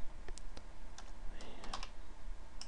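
Typing on a computer keyboard at a desk: a run of sharp, close key clicks with uneven spacing, fairly quiet, with no voices.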